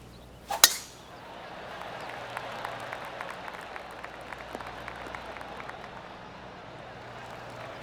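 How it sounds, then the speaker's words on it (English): A gallery crowd gives a soft, polite golf clap in the PGA Tour 2K23 video game, a faint distant patter of scattered claps lasting several seconds after a sharp click at the start. "Oh, golf clap."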